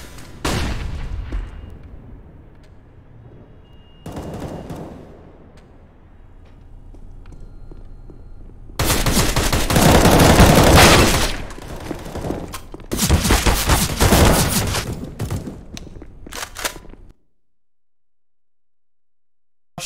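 Counter-Strike: Global Offensive gameplay with footsteps and sporadic shots, then loud bursts of rapid gunfire and explosive blasts from grenades and a flashbang, cutting off abruptly into silence.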